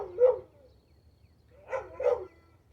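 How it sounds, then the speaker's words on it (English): A dog whines a few times in short, high, plaintive yelps at a moderate distance, with quiet pauses between them. "that's the neighbor's dog being sad over there."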